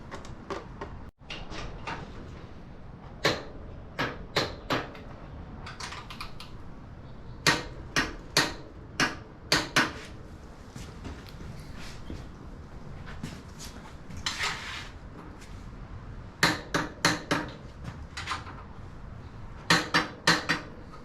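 Metallic clanks and ratcheting clicks from wrenching on the suspension bolts of a 2017 Harley-Davidson Dyna Low Rider, close up, in irregular bursts over a steady workshop background with no talk.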